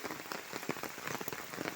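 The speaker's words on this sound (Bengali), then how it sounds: "বৃষ্টি পড়ছে, প্রচণ্ডভাবে বৃষ্টি হচ্ছে।" Heavy rain pours steadily beside a pond bank, a dense close patter of drops striking surfaces with no pauses and no voices.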